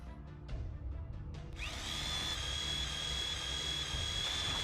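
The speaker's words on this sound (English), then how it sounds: "That sounds like a drill." A drill in the Fate/Grand Order video game spins up after a few brief knocks, then holds a loud, steady whine that keeps going to the end, with no talking.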